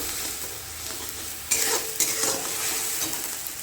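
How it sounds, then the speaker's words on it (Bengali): Onion fritters frying in a pan give off a steady sizzle while a utensil stirs them, with a couple of sharper scraping stirs standing out midway. The frying is close and alone, with no voices. "কিছুক্ষণ সময় ধরে পেঁয়াজ বড়াটা একটু ভাজ মানে ভেজে নিই যতক্ষণ একটু কালারটা চেঞ্জ হচ্ছে"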